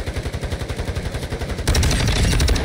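Rapid automatic gunfire in Call of Duty Warzone 2, a close, loud rattling burst of evenly spaced shots that gives way to a denser, heavier volley of fire.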